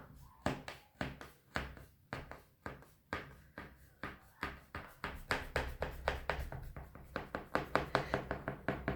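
A thick knife cuts through baklava pressed to nearly 100 layers, dividing it into quarters with a long run of crisp, rhythmic chopping strokes that speed up and grow slightly louder, close and alone.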